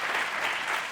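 An audience claps in steady, dense applause from many hands, filling the whole short moment at an even, moderate loudness.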